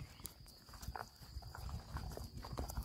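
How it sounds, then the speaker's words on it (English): A 23-year-old blind horse walks along, its hooves clopping in a soft irregular rhythm, fairly faint and close against a quiet outdoor background. "That's a 23-year-old blind horse that I'm walking backwards in front of."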